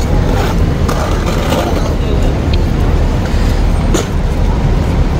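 Loud, dense traffic roar outside the Ajyad bus terminal in Makkah, a constant rumble of passing vehicles that stays steady throughout.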